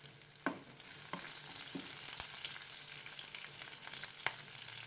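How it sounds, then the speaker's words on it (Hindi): Mushrooms fry in oil in a pan with a soft, constant sizzle, broken by a few sharp clinks and scrapes as they are tossed and stirred. "अच्छे से फ्राई होने दें. और इसे हल्का हल्का टॉस करते रहें."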